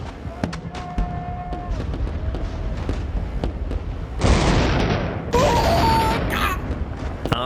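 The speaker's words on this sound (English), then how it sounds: "Napoleon ordered his artillery to blast the British lines" Artillery bombardment of the Battle of Waterloo, a dense barrage of booming blasts and crackling explosions that swells louder partway through, with a faint voice in the background.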